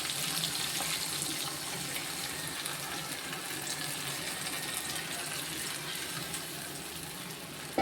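Dissolved masala pours steadily into a pan of Tamil fried fish curry, where tomatoes and green chillies have been cooking. The liquid makes a continuous close-up splashing, gushing sound, with no talking.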